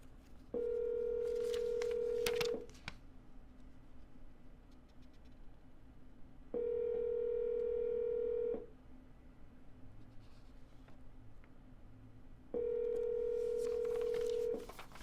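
A telephone ringing tone while double dialing a seller: three identical two-second electronic beeps, each followed by about four seconds of quiet line hiss, heard clearly through the handset.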